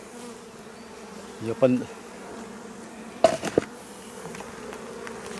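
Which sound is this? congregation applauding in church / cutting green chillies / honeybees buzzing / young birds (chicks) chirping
honeybees buzzing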